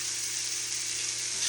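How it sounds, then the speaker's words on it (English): Peppers frying in a cast iron skillet give a steady, close hiss and sizzle that runs unbroken for the whole moment with no talk. "now them peppers are cooking a little better"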